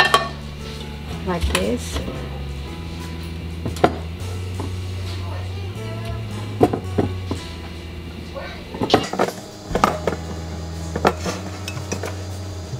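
In a home kitchen, a pan is handled and tilted while being coated with syrup for Brazilian baking, producing scattered metallic knocks, clinks and scrapes against a low hum, mixed in with speech.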